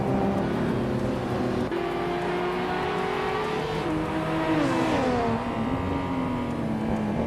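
Race cars in a video game, including a 1997 Mitsubishi GTO twin turbo, pulling away from the start: layered engine tones rising and falling through gear changes, one engine climbing sharply, steady and close with no talk.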